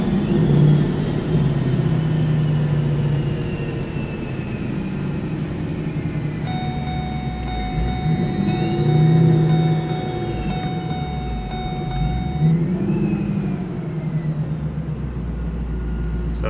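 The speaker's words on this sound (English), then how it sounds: "So there you have it, our 4R200 on the dyno, doing some testing." A Ford 4R200 transmission running on a dyno at high speed gives off a steady mechanical drone with a high whine, and the tone slides down as it slows and downshifts; the sound continues throughout with no speech.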